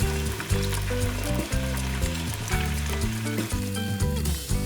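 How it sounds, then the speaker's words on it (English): Pork ribs deep-frying in a batch of hot oil, a constant close sizzle with bubbling, partly masked by loud rhythmic background music throughout. "Fry the ribs in a batches."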